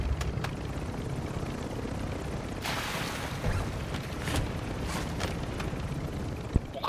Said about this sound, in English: Right, let's just get in the chopper.